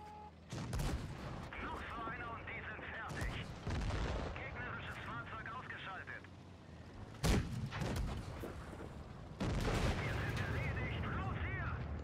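Tank cannon shots in the World of Tanks Blitz video game, several sharp booming blasts spread across the stretch, with loud bursts around the middle and end and game noise and voices between them.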